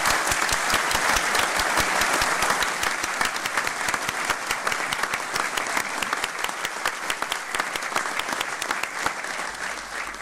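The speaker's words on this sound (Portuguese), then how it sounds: "vice-presidente, conselheiro Dimas Ramalho, com uma salva de palmas." Sustained applause from an audience at a formal council inauguration session for the vice-president councillor, dense steady clapping throughout that slowly thins toward the end.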